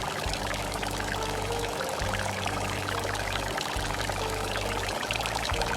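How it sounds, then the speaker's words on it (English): Water pours steadily into a small pot in a miniature outdoor village kitchen, a continuous broadband splashing stream with brief dips near two and five seconds, fairly close and alone with no voices. "Pouring the water now."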